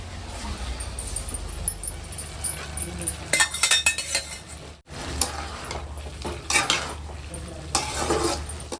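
Chana dal tipped into a cooking pot and stirred with a metal spoon, giving repeated scraping, clinking strokes and a light sizzle at close range, while someone talks over the cooking.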